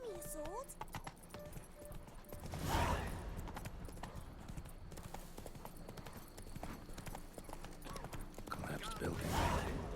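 Roach, the horse in The Witcher 3, gallops with rhythmic hoofbeats under a steady wash of game sound, and someone speaks over the clip-clop.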